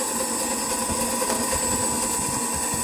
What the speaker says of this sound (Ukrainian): Нормально на холостому ходу 4 кВт двигун дуже добре працює від китайського бюджетного частотного перетворювача